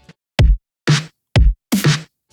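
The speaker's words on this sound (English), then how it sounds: "Then there's a ghost snare at the end of every 4 bars which sounds like this." Four short, crisp ghost snare hits spaced unevenly, each a snappy burst with a quick decay; the later ones carry a brighter, noisier rattle.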